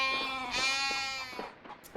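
A sheep in the video game Five Guardians of David gives a close, quavering bleat that trails off near the end, alone without talk.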